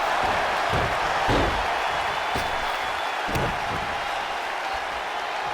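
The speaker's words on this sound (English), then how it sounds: "this crowd's starting to perk up, Michael." Arena crowd cheering in the wrestling video game WWE 2K20, a loud, steady wash of applause and noise with a few sharp impact thuds, commentary voices faintly mixed in.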